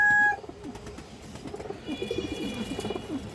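A male fancy pigeon kept at home coos in repeated low, bubbling phrases close by, with a couple of brief tonal beeps at the start and faint clatter around it.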